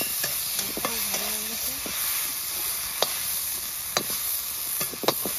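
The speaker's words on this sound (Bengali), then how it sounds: "চিংড়ি মাছটা ভেজে নেব।" Prawns fry in a pan with a constant bright sizzle and hiss, close and steady, with occasional light taps of a spatula and brief muffled background voice.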